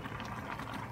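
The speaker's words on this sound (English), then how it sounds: "When it starts boiling" A pot of gochujang-based braising sauce for tofu, covered and on high heat, bubbles steadily in a soft, even rolling boil through the whole short moment.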